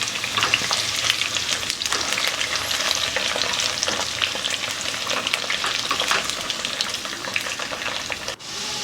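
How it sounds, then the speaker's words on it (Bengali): Pieces of pointed gourd (potol) sizzle and spit steadily in hot oil over a medium flame, a dense continuous crackle with occasional stirring, close and alone without any talking. "প্রথমে আমি পটলগুলো ভেজে নেব।"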